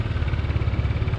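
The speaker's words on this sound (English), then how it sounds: "Engine on." A SYM Cruisym Alpha 300 scooter engine, a 2021 model, running at a steady close idle with an even low throb right after starting, and no voices.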